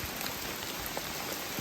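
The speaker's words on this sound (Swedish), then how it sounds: "Ja, det regnar så." Heavy rain falls steadily during a night bike ride on a Stockholm to Malmö cycling trip, a dense even hiss of drops with no voices.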